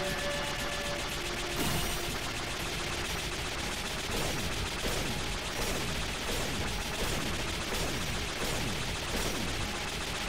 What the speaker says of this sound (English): Each of those gunshots is a different button press.